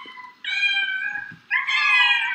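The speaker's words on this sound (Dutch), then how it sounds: "het miauwen van de katten" Two drawn-out cat meows, close and loud, the second rising higher and more insistent after a short pause.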